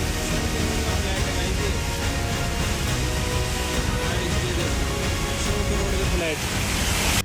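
Floodwater runs like a river along Golf Course Road in Gurugram, a dense, continuous loud roar of rushing water with no pauses, filling the whole clip.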